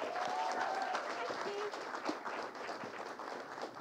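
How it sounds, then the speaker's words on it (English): Audience applause for filmmakers at a film festival panel talk, a dense round of clapping that carries on at an even level, with faint voices underneath. "Just one more round of applause for the wonderful filmmakers and their films."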